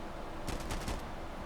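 Short burst of RPK machine gun fire in the video game Insurgency Sandstorm, about five rapid shots in under a second over a steady background hiss, somewhat muffled.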